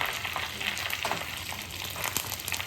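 Sesame seeds and curry leaves sizzle in hot oil during a tempering for khandvi, a steady crackling fry with a few sharper pops, close and fairly quiet.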